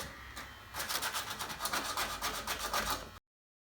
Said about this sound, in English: He's sanding these down.